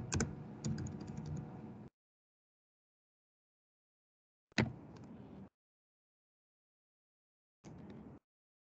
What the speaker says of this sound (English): I'm typing it out